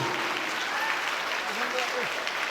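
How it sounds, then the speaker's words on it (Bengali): Audience clapping at an English coaching centre's annual prize giving ceremony, with moderate continuous applause and voices mixed in underneath. "জোরদার হাত তালি চাইছি"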